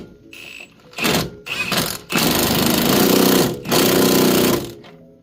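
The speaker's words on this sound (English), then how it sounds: "18 millimeter wrench, get up in behind it, and now we can torque it down" A power tool rattles as it torques down the CV axle on a Mazdaspeed 3, several loud, close bursts of buzzing hammering with short pauses between them, the longest lasting over a second.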